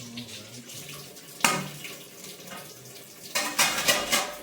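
A tap runs water in a sink, with a clatter of dishes and sharper splashes near the end as something is rinsed under the stream.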